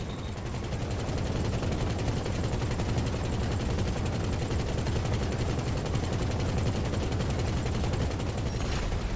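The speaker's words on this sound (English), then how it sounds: "Let's see these machine guns compared to the Stealth Annihilator." Rapid, continuous machine-gun fire from an Akula attack helicopter in a video game, a dense unbroken stream of shots lasting throughout, loud and close.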